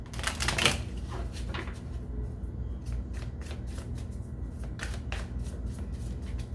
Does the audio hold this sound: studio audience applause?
no